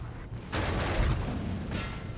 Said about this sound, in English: My 12s currently slamming shells into the rear over here.